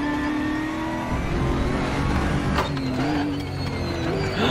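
A race car in the RaceRoom racing game accelerates, its engine whining loud and continuous with pitch climbing and dipping through gear changes.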